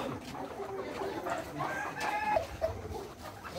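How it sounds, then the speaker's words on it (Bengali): Chickens cluck quietly on a poultry farm, a few short calls rising over a steady background hum, fairly faint and at a distance. "ওই মুরগি ওই সব বাইরে, হ্যাঁ সব বাইরে গেছে।"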